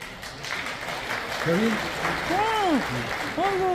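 An audience at a memorial service in a Seoul hotel hall claps steadily while voices speak over the applause, with a rising and falling vocal or musical tone emerging midway.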